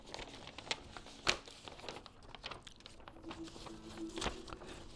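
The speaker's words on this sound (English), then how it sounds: "Now, we are about to fold it again." Cloth is folded again, giving soft crinkling and rustling with a few sharper brushing snaps scattered unevenly through the quiet.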